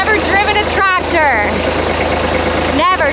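A tractor engine runs steadily, scraping gravel while a farm novice learns to drive it, its low idle-like drone constant and near throughout, with people's voices talking over it.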